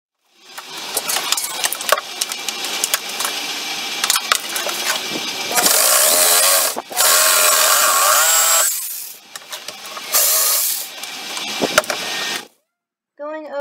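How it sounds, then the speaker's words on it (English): A power tool works the wood of a nightstand, close and loud, with scraping, rubbing passages and a sustained whirring hiss that cuts in and out in several bursts. "over the back one more time with the sander to smooth out that back"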